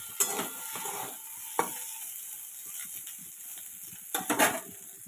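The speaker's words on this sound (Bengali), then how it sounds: "তারপরে তার মধ্যে দিয়ে দিতে হবে আলুটা। একটু হালকা ভেজে নেবে" Small diced potato cubes frying lightly in oil in a pan give a steady close sizzle, with a few sharp clinks from stirring near the start and a louder burst of stirring near the end.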